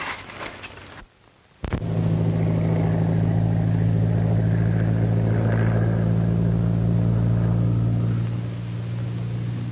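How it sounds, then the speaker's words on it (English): A steady engine drone with a low, constant hum begins abruptly after a brief quiet moment and holds loud and even to the end. "It's a plane."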